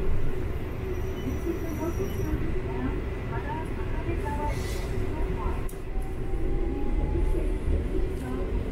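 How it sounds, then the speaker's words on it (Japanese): Utsunomiya Light Rail tram rolling steadily with a constant low rumble of wheels and motor, a faint brief squeal partway through as an oncoming tram passes, heard from inside the car. "ここで上り列車とすれ違いです。"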